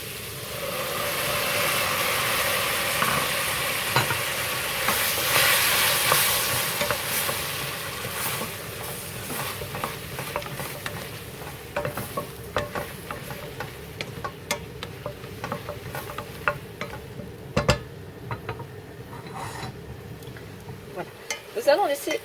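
Apple strudel filling with raisins cooking in a pan: a steady low frying hiss and soft bubbling runs throughout, with occasional light clicks and utensil taps, moderately near and alone without talk.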